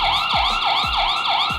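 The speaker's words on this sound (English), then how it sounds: "the siren option, which is used to scare away potential intruders" Avair Sense 1 security camera siren, meant to scare off intruders, wails in loud rising-and-falling sweeps about three times, steady and close with no talking.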